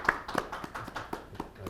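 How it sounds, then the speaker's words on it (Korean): A brief scattering of audience claps after a lecture and talk session at a breakfast forum, a few distinct, fairly faint hand claps spaced irregularly. "큰 박수 부탁드리겠습니다"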